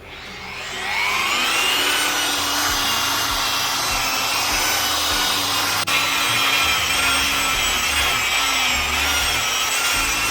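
A rotary polisher works steadily on an oxidized, flaking car headlight lens, giving a loud, continuous high whine with one brief tick midway and no talking.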